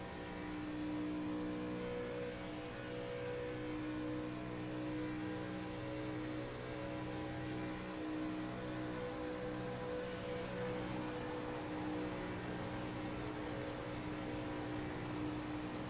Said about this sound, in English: I just want you to hear the RPMs that this car is going to turn coming down these straightaways